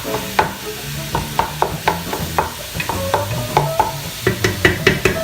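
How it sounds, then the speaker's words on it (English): Onions and fennel sizzle loudly in a pan, with a constant frying hiss broken by regular scraping and stirring knocks from a utensil, heard close with no talking. "you can hear this sizzling like crazy"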